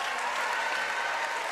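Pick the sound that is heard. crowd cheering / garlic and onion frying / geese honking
crowd cheering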